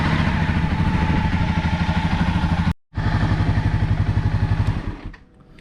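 A 2017 Honda CBR300R motorcycle engine runs loud and close with a steady pulsing throb, briefly cuts out, then roars back and pulls away, fading into the distance at the end.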